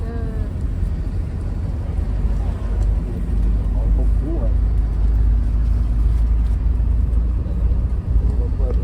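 A road vehicle crowded with passengers rumbles as it pulls away, a loud steady low engine drone with rising tones, heard from inside, with voices murmuring under the noise.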